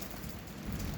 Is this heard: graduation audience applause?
no